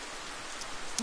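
Steady hiss of rain as a sound effect in the video game Worldend Syndrome, soft and even throughout, with a brief rising tone near the end.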